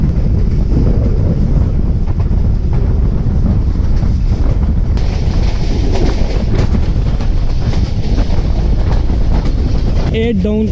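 The 8DN Tezgam passenger train between Rawalpindi and Lahore rumbles steadily while moving, with heavy wind buffeting and a loud, continuous roar of wheels and carriages throughout.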